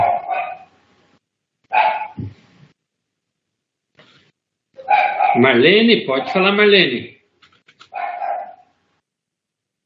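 Dogs bark in short bursts nearby, with one longer stretch of overlapping barking and yelping, while a person speaks between them.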